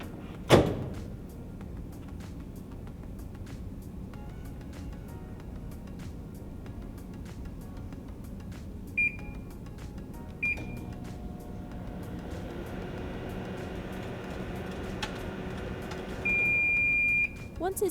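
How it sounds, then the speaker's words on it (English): A microwave oven heats bacon to extra crispy, running as a steady low hum with a door clunk near the start, a few short isolated beeps in the middle, and a longer tone toward the end. "Now put it in the microwave. You can put it in for 25 seconds for extra crispy bacon."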